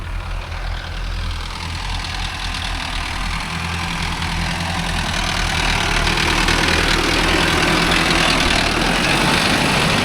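A Mahindra tractor engine labours steadily while pulling a nine-tine cultivator. The heavy, continuous drone holds constant with a deep low rumble, loud and near, and it builds slightly in strength over time with no talk.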